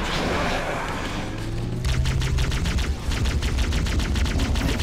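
Rapid plasma weapon fire from grunts in Halo CE during a Flood level, loud and continuous, with quick rhythmic pulses that are dense and close, layered over other combat noise.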